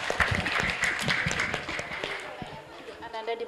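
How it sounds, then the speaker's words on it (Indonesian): An audience of parents at a school Qur'an recitation exam and graduation ceremony applauds a student, dense crowd clapping with murmured chatter that thins toward the end. "Beri tepuk tangan untuk Ananda, Bapak Ibu."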